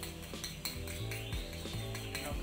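Steamed and fried cake batter is mixed in a bowl with utensils, giving repeated close metallic clinks and scrapes in an uneven rhythm against a low steady hum.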